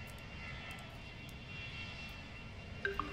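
Airplane engine in the video game The Universim, a steady, moderately faint droning roar that holds evenly throughout with a couple of small bleeps near the end.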